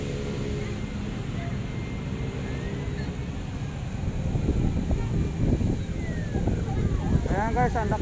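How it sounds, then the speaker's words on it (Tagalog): Strong wind buffets the microphone in a steady roar over water, with faint engine drone and some indistinct background chatter. "ang lakas ng hangin"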